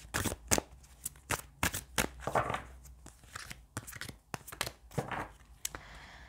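Quick bursts of tarot cards being shuffled and riffled close by, crisp rapid flicks in several clusters with brief pauses between them.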